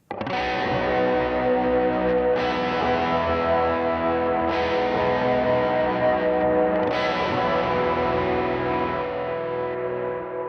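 Sustained electric guitar chords ring out with heavy delay and reverb, each new strum blooming over the lingering wash of the previous one, loud and continuous.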